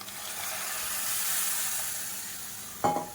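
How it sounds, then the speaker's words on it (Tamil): Blended tomato and tamarind liquid hit a hot pan for Tamil kuzhambu, giving a soft hissing sizzle that swells and fades over a few seconds, followed by a sharp clatter near the end. "2 தக்காளி மிக்சியில் அடித்து வச்சுருக்கேன். அது கூடவே சின்ன லெமன் சைஸுக்கு புளியும் கரைச்சிட்டு இதோட சேர்த்து வச்சுருக்கேன்"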